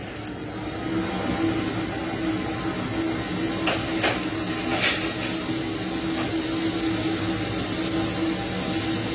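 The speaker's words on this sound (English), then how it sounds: "on my pan here, I'm going to put in a little knob of butter" Butter melting in a hot pan gives a steady, moderately loud broadband sizzle and hiss with a few brief crackles, heard alone with no talking.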